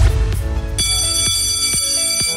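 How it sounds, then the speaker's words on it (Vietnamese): A quiz-game answer buzzer is tested during a traffic-law contest: a bright, sustained electronic ring starts abruptly after a short muffled rumble and holds steadily to the end, loud and close. "Đầu tiên mời tụi em thử chuông."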